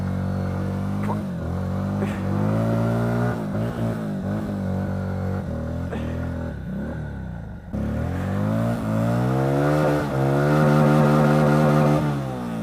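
A Lexmoto Vendetta 250cc motorcycle struggles off road, its engine revving loud and close in repeated surges and dips, climbing to a sustained high-pitched wail near the end.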